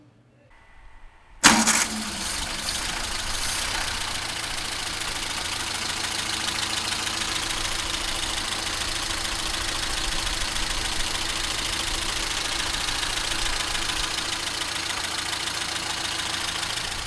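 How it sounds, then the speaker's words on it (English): A 1929 Ford Model A engine cranks and fires after a brief quiet moment, then settles into a steady, loud, even idle with a faint rhythmic knock, running alone without talk. "start the motor up, let you listen to the engine"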